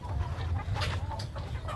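Chickens clucking at close range in a steady, busy mix of short calls over a low background hum, with no talk.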